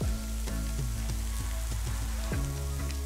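Greens wilting in a hot pan, with a continuous close sizzle and a few soft stirring knocks over the steady frying hiss.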